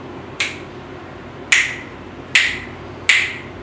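Four sharp, loud finger snaps ring out close by at uneven intervals, each a crisp isolated crack against a quiet background.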